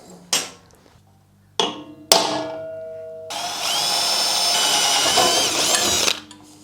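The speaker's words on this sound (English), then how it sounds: "Drill that hole." A few short clanks and tool blips, then a power drill whines steadily into metal for several seconds before stopping, close and fairly loud.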